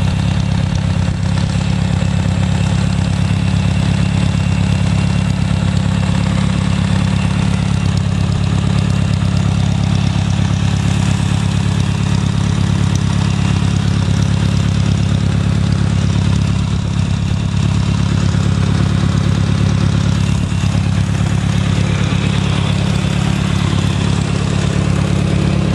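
An engine idles steadily with a constant low rumble, running loud and even for the whole stretch with no talking.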